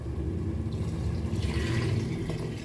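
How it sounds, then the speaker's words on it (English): Water pours into a Goan prawn curry in a pot, a continuous gurgling, splashing fill close up with no voices. "let us add the water to this."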